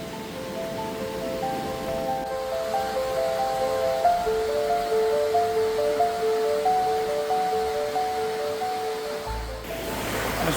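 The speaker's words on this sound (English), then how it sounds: "the sound of this running water" A waterfall runs in a woodland at the old Kennall Vale gunpowder factory, giving a steady, even rush of water throughout, with faint sustained tones drifting above it.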